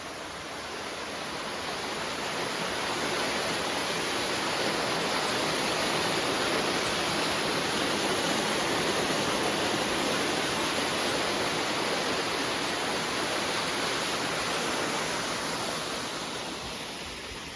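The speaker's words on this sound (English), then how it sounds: "Just nice and relaxing, this, the sound of the water and stuff." Steady rushing water from a stream flowing beside a loch, a broad continuous wash of sound that swells gently and stays close and loud throughout with no voices.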